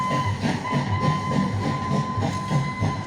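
Train sound effect from the light and sound show at Andaman's Cellular Jail: a steady rolling rumble of a train running on rails with rhythmic clickety-clack beats and a thin whistle-like tone sustained throughout.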